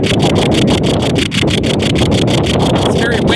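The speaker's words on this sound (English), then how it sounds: "It's very windy today." Strong gusty wind in a cemetery buffets the microphone with loud continuous roaring and rhythmic rubbing, constant throughout with no pause.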